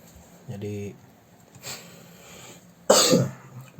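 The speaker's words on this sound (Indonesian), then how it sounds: "maaf kalau jelasin agak batuk" A person coughs twice, close to the listener, with a short voiced sound just before, in an otherwise quiet room.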